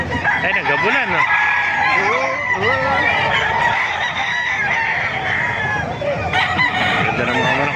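Roosters at a chicken market in Calumpit, Bulacan crow loudly and repeatedly over a busy murmur of clucking birds, with people talking in the background.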